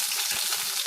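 Curry leaves dropped into hot oil where mustard seeds and chillies are already frying, giving a brief, loud, continuous crackling sizzle with no talk.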